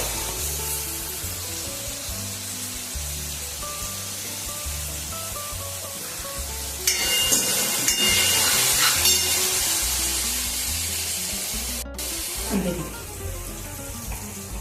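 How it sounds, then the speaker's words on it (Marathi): Tomatoes with green chili paste being sautéed in a pan, giving a steady close sizzle and frying crackle throughout that grows louder and brighter partway through, with faint stirring and clinking. "टमाटर छान परतून घेऊ. टमाटर परतलं का मग मिरचीची पेस्ट टाकू."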